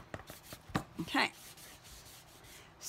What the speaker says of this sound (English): all I'm gonna do just take a little piece of paper towel and rub it in